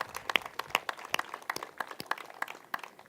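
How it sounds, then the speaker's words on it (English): A White House audience claps for First Lady Michelle Obama at a spring vegetable garden planting, with crisp, scattered handclaps heard fairly faint and from a distance. "we need a huge round of applause for the most famous vegetable gardener in the world, our First Lady, Michelle Obama"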